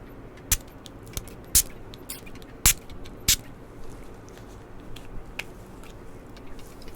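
Several sharp, brief spray bottle bursts toward a face, spaced irregularly over a soft background hiss, close by, with no voices.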